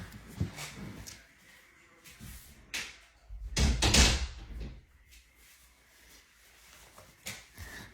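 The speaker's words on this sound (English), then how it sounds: "Let me close my door." A door in a house swings shut, several soft bumps and a louder thud near the middle, with faint room noise around it.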